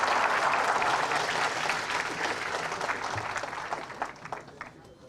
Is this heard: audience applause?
yes